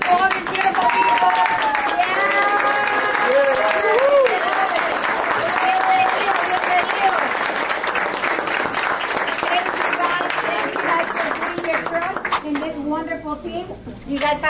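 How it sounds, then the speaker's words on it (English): Audience at a Florida realtors' gathering gives a loud, sustained round of applause, dense clapping with scattered cheers and voices throughout, fading slightly near the end. "let's stand up and give a big round of applause for all these beautiful people"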